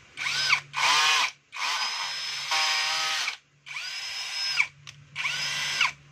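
A power drill fitted with a replacement chuck drives a screw in several close, loud bursts of whining motor, each lasting about a second, with short pauses between them and no talking.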